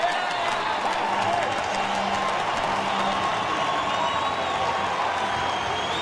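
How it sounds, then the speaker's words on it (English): A baseball crowd at a Dodgers at Rockies game in Colorado applauds and cheers steadily, a dense, continuous wash of clapping and voices that holds at even loudness from start to finish. "So a big round of applause for Juan Nicasio."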